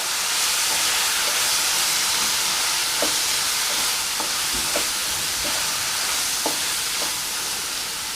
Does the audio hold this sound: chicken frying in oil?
yes